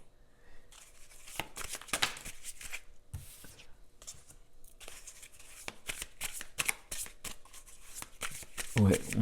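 Tarot cards being shuffled and drawn, with crisp riffling and sliding card sounds that continue under a soft French-speaking voice.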